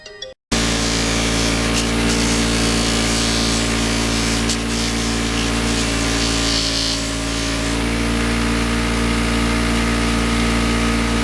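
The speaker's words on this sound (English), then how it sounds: "as I take the bolts out of this project, come down, just run them on a buffing wheels, clean them up a little" A bench buffing wheel spins up and runs with a loud, steady motorized drone and hum while motorcycle bolts are cleaned on it, the tone holding nearly constant close by throughout.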